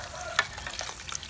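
Eel frying in a pan as coconut milk goes in, a brief splash and sizzle near the start followed by a soft steady stirring and bubbling at low volume, no talking.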